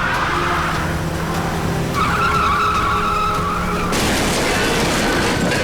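Car tires skidding and squealing on the road, a sustained screech that shifts pitch partway through, followed by a harsher grinding skid, loud and close with engine noise underneath.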